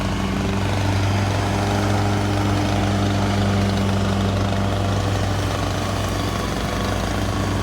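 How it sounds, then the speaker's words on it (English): A lawn mower runs steadily while cutting grass in a yard, a loud, close, unbroken engine drone with a constant low hum and no voices over it. "Got some mowing footage of the boss."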